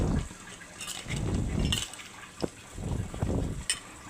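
Water poured in small splashes into a bowl of baby food seasoned with a little coriander powder, a few short close gushes with gaps between them, no voices.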